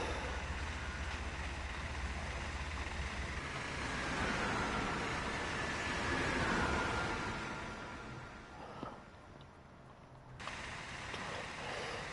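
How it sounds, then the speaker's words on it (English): Passenger coaches roll over rail joints in the Train Sim World 4 video game. A continuous rumbling ride noise swells, then eases to a quieter, steadier roll with faint rhythmic clatter. "I love the sound of the rail joints on these these coaches."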